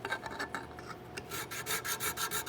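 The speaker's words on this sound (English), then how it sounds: "I am going to switch to a little finer file." A hand file rasps against wood while shaping a rifle patch box from a Colonial kit, in quick, even back-and-forth strokes up close with no voices.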